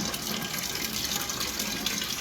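Water poured out of an RO water filter's storage tank into a clay pot, a steady close splashing and trickling stream running continuously without pause.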